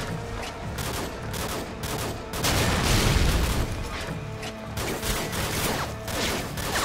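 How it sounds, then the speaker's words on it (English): Thumper grenade launcher and RPG fire in the video game Modern Warfare 2, heavy overlapping explosions and gunfire in dense bursts with one louder boom midway, loud and continuous. "shoot at the wall a bit with the thumper. Shoot at the ground with the RPG."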